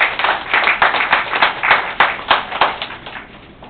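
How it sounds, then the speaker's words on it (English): A small audience at a Toastmasters club meeting gives a round of applause, with loose, rhythmic hand claps from a modest group that are fairly close and gradually thin out toward the end. "Let us give a big round of applause."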